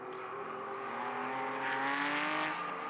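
The number 5 Porsche 911 2.8 RSR race car, racing at the Le Castellet circuit, holds a steady, rising engine note at moderate distance, with no other sound around it.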